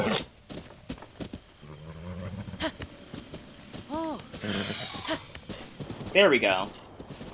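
A horse in Zelda: Breath of the Wild snorts and whinnies amid clopping hooves and movement sounds, with someone talking over much of it and a louder neigh near the end.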